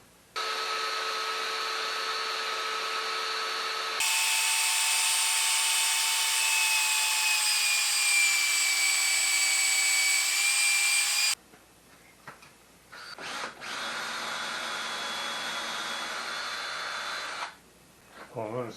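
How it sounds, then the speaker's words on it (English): A power drill drives screws to fasten a base onto a cedar log birdhouse, whining in several sustained bursts with pitch shifts and short pauses between runs. "I'm going to screw it on and not glue it on"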